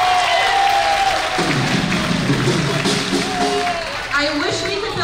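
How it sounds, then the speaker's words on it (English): At a high school spring band concert, the audience claps for a band member while a voice speaks over the sustained, moderately loud applause. Thumps and a steady tone from the stage sit underneath. "Go ahead, clap for Zach."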